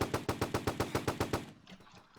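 Rapid automatic gunfire in the Roblox shooter Fortline: about ten evenly spaced, loud shots in a quick burst, then the firing stops and only faint game ambience remains.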